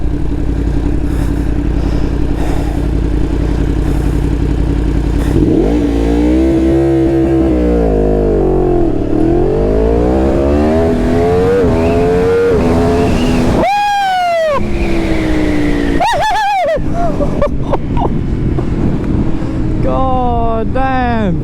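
A Yamaha R1 sport motorcycle rides fast, its engine roaring close and loud under steady wind rush, rising and falling in pitch through repeated gear changes and hard revving, with occasional voices.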